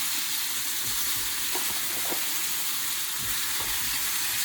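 Slices of pain perdu fry in a pan, a steady close sizzle with soft crackles and occasional light pops throughout, no talking.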